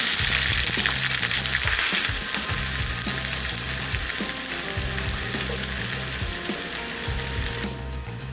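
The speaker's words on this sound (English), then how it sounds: "Our water is boiling." A steady, dense bubbling sizzle from a pot of water with oil and salt boiling on the stove for biryani, with a faint rhythmic mechanical clicking underneath and no voices.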